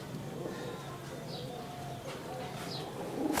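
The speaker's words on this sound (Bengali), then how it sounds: "মার্শাল অনেক সুন্দর কবুতর এটা" Giriraj-type pigeons coo softly and steadily, fairly faint and distant, with a few brief high chirps over a constant background hiss.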